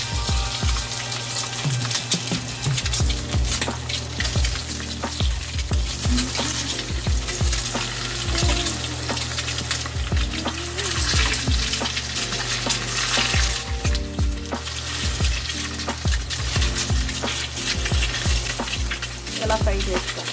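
Egg masala curry frying in a pan, a steady loud sizzle with the repeated scrape and knock of a spoon stirring throughout, close up, with faint running water in the background.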